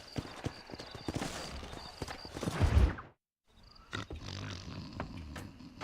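Horse hooves clip-clopping in the Red Dead Redemption video game, a steady close trot with snorts and game ambience, a brief silent gap, then hooves and background sounds resume.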